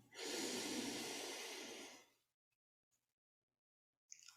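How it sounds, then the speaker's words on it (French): A long, deep breath drawn in and let out as a guided relaxation exercise begins, a close, steady airy rush lasting about two seconds, followed by near silence and a faint breath at the end. "prenez une grande respiration du coccyx à la tête."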